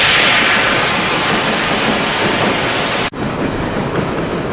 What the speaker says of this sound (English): You get this train rolling.